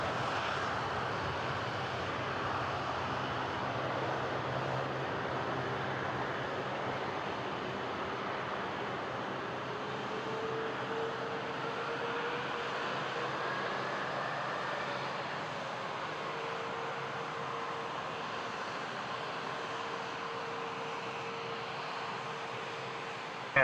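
An airliner takes off from runway 23 at Toronto Pearson, a sustained broad jet engine roar heard from a distance, steady and unbroken for the whole stretch with a faint tonal whine running through it.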